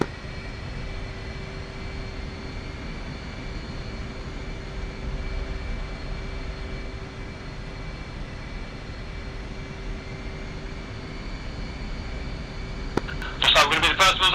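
An F/A-18C jet taxis in a flight simulator, with a steady engine whine and hum droning throughout. A few brief radio-like clicks and a burst of noise come near the end.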